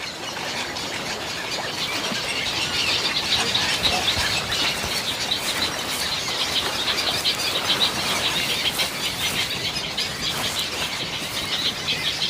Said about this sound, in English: Herons and other bird species live in large colonies in the mangroves.